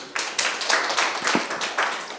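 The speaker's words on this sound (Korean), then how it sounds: "박수로 환영해 주십시오" A small forum audience claps to welcome a speaker at an ecotourism event, a short burst of scattered, uneven hand claps lasting about two seconds.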